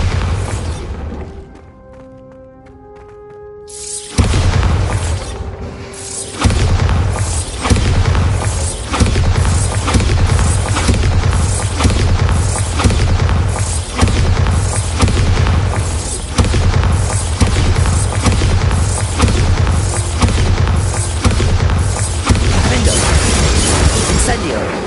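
Bombarda blasting spell going off repeatedly in a video game, a run of loud booming explosions with shattering debris following a quiet lead-in, steady heavy blasts continuing throughout.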